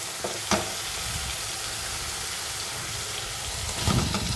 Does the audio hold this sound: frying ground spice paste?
yes